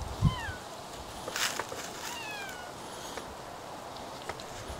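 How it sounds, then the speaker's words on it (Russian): Cats squabble outdoors at a country dacha in Odesa, with faint, distant meows and short yowls rising over a steady background hiss. "Котячьи разборки, вы видите?"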